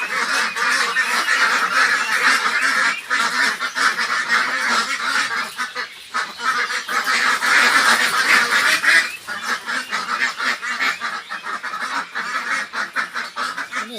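A large flock of farm ducks quacks and honks loudly and nonstop, a dense overlapping clamour close at hand that dips only briefly before surging again.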